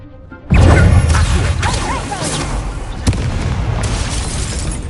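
A sudden booming burst from the Incendio fire spell in the Hogwarts Legacy video game, followed by crackling, rumbling flames and a second sharp hit midway.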